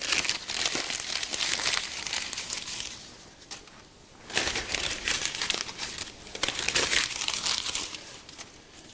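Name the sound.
crumpling printer paper to put in a wood stove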